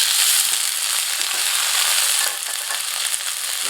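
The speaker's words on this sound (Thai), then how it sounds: "ผัดเลย ผัดด้วยไฟแรงไม่นานใช้ได้แล้ว" Bean sprouts stir-fried with garlic over high heat give a loud, steady hiss and crackle, with faint scraping of the utensil underneath and a slight drop in volume partway through.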